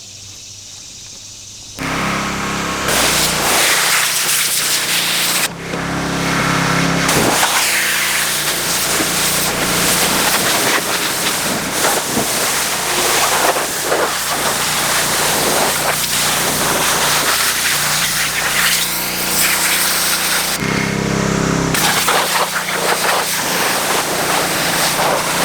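A pressure washer sprays the body of a classic car project, producing a loud, steady broadband hiss that starts after a brief lull and is cut by two short pauses, with no talking.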